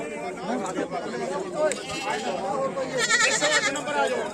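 Goats bleat at a Punjabi goat fair, several animals calling out amid a busy crowd, with people talking and chattering loudly close by throughout.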